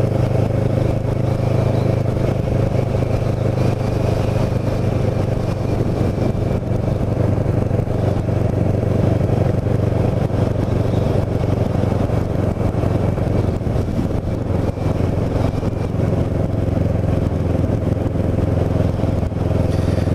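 Steady, loud engine drone of a Kawasaki Ninja 650R motorcycle cruising on a warm day around North Cape May, with continuous wind rush and no clear gear changes.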